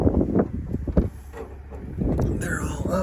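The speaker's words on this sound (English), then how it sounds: "It's cold, windy." Cold, gusty wind buffets the microphone outdoors beside a truck, a steady low rumble that swells and fades under a voice.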